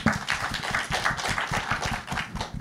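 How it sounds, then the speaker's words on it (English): Panel audience at a SOCAP23 conference session giving a quick round of applause, a short burst of scattered claps in a steady rhythm, fairly close and continuous for a few seconds with no talk over it. "give a quick round of applause for Ndidi Nwuneli"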